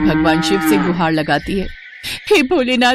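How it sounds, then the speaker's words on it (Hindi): A cow moos loudly in long, drawn-out calls that fill most of the moment, briefly breaking off before another bellow, while someone narrates over it. "लेकिन वो इतनी जोर से रंभा क्यों रही है?"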